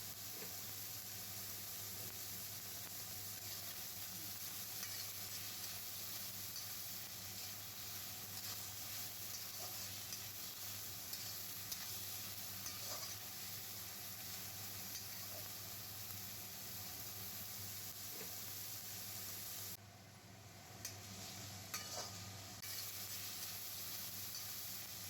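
Chopped onion frying in a pan, giving a faint, steady sizzle and hiss that runs on evenly with only a few soft clicks, no voices over it.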